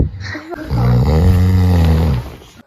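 A father snores at bedtime with one long, loud, rasping snore right next to the listener. It rumbles low and steady for about a second and a half before cutting off.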